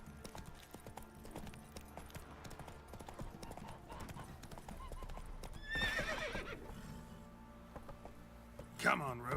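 Roach the horse gallops in The Witcher 3, hooves clip-clopping steadily under game music and ambience, with a loud whinny near the end.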